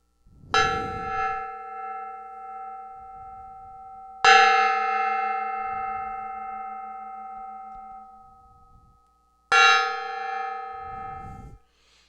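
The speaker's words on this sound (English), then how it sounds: "All right, 3 gongs." A gong in a LEGO building workshop struck three times, each hit a loud metallic clang ringing with steady tones that fade slowly before the next strike, the third coming after a brief pause.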